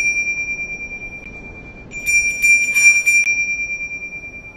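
A single sleigh bell from the Polar Express film rings out in a bright cluster of clear metallic jingles over a faint steady tone, followed by a soft shimmering decay.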